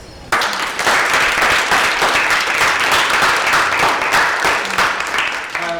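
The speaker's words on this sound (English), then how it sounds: "let's give a big round of applause" Audience applause at a talk, bursting in abruptly and holding as loud, dense, even clapping for several seconds before starting to thin out near the end.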